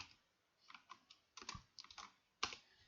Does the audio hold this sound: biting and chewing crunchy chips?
no